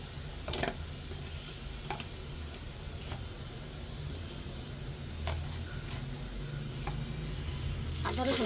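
Spices go one by one into a pan of browned onions, a steady close sizzle and frying hiss running throughout with occasional stirring clicks and a louder scrape near the end.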